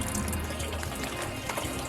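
Coolant draining from a 7.3L PowerStroke engine, a short steady gurgling splash of liquid pouring out, moderately close and heard without talk.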